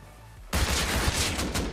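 An AK rifle in Rust Console opens up suddenly after a brief quiet moment, a loud, dense stream of rapid shots that keeps going to the end.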